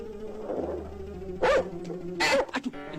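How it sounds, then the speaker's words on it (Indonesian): A fierce dog barks in a few sharp, loud bursts at close range, with softer yips and whimpering sounds between and after the barks. "Aduh, anjing gonggong."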